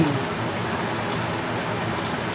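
Steady hissing rain pours down, a dense wash of drops with no pauses.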